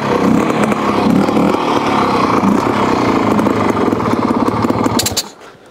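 A twin-shock trials motorcycle engine, Bultaco or Fantic, runs loud and close with a rough, throbbing note that swells slightly, then cuts out abruptly near the end into silence.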